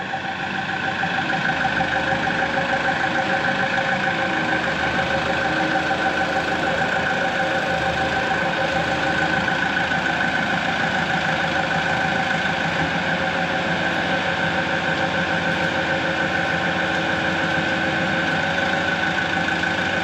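A John Deere military dozer's diesel engine runs steadily at idle, a loud, continuous rumble with a knocking beat and a constant hum, with no talking.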